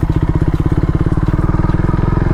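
A KTM Duke 250 motorcycle engine throbs loud and close in a fast, steady pulsing idle-to-rev rhythm, a continuous chugging exhaust note held throughout.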